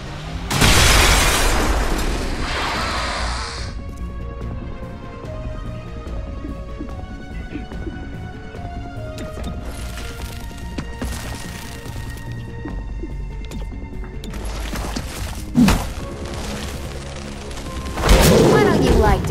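Bomb blast in the XCOM: Chimera Squad video game, a loud sharp burst at the start that decays into a low humming rumble, with another heavy boom near the end.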